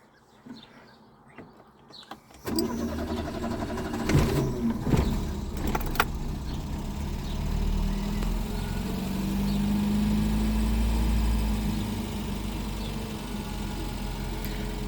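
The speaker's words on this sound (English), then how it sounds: "I'll start it up outside just so you can have a look and see what it's like." A 1991 Opel Corsa saloon cranks and catches after sitting for hours, then settles into a steady, slightly rising idle with the choke pulled out, heard close up and alone.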